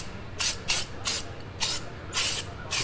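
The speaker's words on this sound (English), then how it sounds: "So what I suggest doing is just doing very light coats like this." Spray paint hisses in short, light bursts onto a 1973-1987 Chevy K10/C10 squarebody truck bed panel, about five or six brief passes at an even rhythm, close by with no talk.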